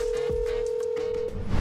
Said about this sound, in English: So I'm gonna make some phone calls here real quickly